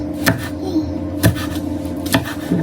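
A knife slices vegetables for pancit bihon, making three crisp cuts against a board about a second apart over a low background hum.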